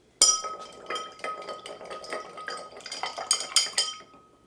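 Ice cubes clink and rattle against glass as a dirty gin martini is stirred with a bar spoon, a quick run of bright, close-up chinks and taps.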